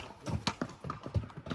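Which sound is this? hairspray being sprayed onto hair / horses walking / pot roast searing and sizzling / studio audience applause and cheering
horses walking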